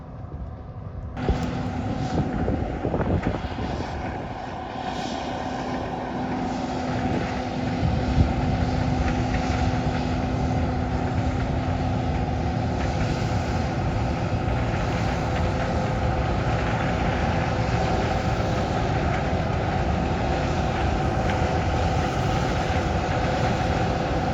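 A John Deere combine harvester works through a sunflower harvest, its engine droning steadily and evenly at close range for the whole stretch, with no talk over it.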